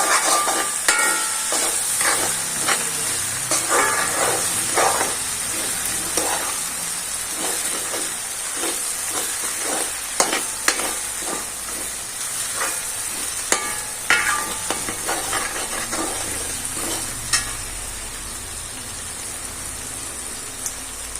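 Fish curry masala with garlic and green chillies fries in a pan, loud continuous crackling sizzle punctuated by repeated scraping stirs and small clicks of the spoon, no talking.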